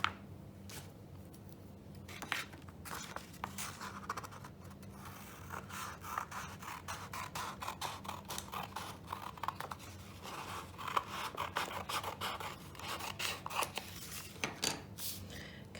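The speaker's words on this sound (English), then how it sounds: "And then we're going to cut that one as well." Scissors snip through folded paper in a long run of small, irregular cuts and crinkles. The sound is close but quiet, over a low steady hum, with no talking.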